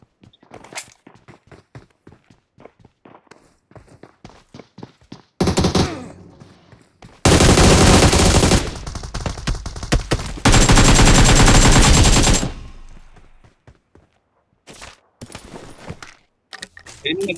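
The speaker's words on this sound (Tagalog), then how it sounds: "Ingat ka, may bumabaril sa gilid, may bumabaril." Machine-gun fire in the video game PUBG, with dense sustained bursts and scattered single shots that cut in between footsteps and quieter game sounds. A player talks near the start.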